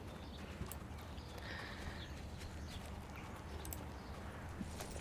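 Horse hooves clip-clopping in the video game Mistfall, a steady run of quiet hoof beats over soft ambient game noise and faint bird chirps.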